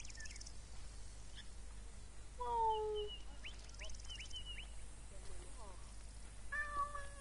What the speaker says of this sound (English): I don't know why cats come after me all the time.